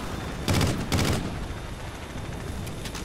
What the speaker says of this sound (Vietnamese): Ủa sao bắn nó không gớt trời.